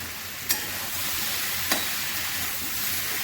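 Water poured into a pan of sautéed potato, pointed gourd and pumpkin curry with prawns, a loud continuous hiss and sizzle with two brief sharp clinks, close and steady for a few seconds.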